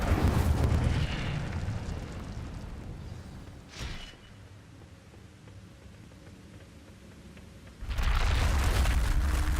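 A fire spell is cast in Hogwarts Legacy, heard as a loud rushing roar with a brief burst in the middle, then a sudden heavy flare of noise near the end.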